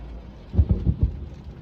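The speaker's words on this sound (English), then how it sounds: "That was like 3 lightning flashes." Thunder from lightning strikes during a rainstorm: a series of about four low, heavy rumbling booms in quick succession, fairly close and loud against a steady background of rain, with no talking.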